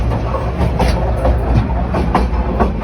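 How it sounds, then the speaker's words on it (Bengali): A train running at high speed on the way to Dhaka, heard from between two carriages: a steady loud rumble with rhythmic clickety-clack of wheels over rail joints, continuous and close. "প্রচণ্ড স্পিডে ট্রেনটি এখন চলছে ঢাকার পথে"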